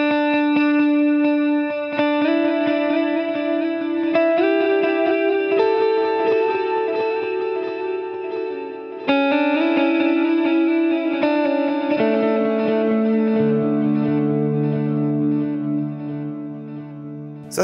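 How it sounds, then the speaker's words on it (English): Guitar through a TC Electronic Triple Delay with several delays stacked, a dense wash of overlapping echoed notes and shifting chords building into a big sustained swell, loud and continuous, no speech. "And then if you add the other delays onto it, it just sounds huge."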